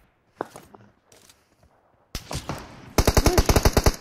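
Gunfire from the video game PUBG Mobile: a few scattered shots, then a dense rapid burst of automatic fire, loud and close, with distant pops earlier.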